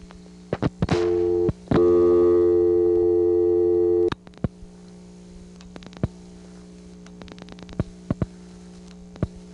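A Siemens motor switch telephone exchange in Ocala-Silver Springs, Florida, from 1982 gives a brief steady tone, cut off for a moment and then resumed, followed by scattered clicks over a constant low mains hum.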